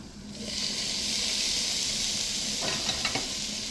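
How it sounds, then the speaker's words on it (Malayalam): Tomatoes fry in a pan for egg roast masala, giving a steady close sizzle and hiss, with a few scraping stirs near the end and no speech over it. "നന്നായിട്ട് ഇളക്കി തക്കാളി ഒന്ന് നന്നായിട്ട് വഴന്ന് വരട്ടെ."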